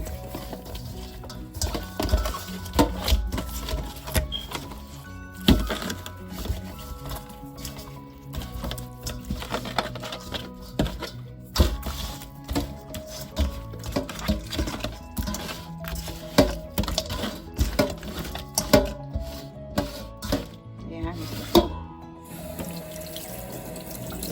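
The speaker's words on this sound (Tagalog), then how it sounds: "Ayan, haluin natin." Burong isda rice porridge mixture is stirred in a pot, with wet, squelching and scraping strokes that repeat unevenly over about twenty-four seconds, close by, alongside watery splashing, with no voices.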